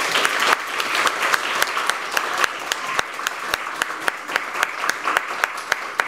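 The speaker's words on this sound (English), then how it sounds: "let's give these gentlemen a round of applause" Steady applause from a church congregation at a Memorial Day service honoring two gentlemen, a dense wash of claps with sharp individual slaps standing out, close and fairly loud throughout with no talking.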